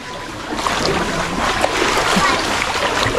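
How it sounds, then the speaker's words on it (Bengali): Water splashes and sloshes as a boat is rowed through flood water inside a house, a steady close churning texture with scattered dips, while people talk nearby. "আর এই দেখো ঘরে বসে নৌকো চালাচ্ছে, মানে এতটা জল"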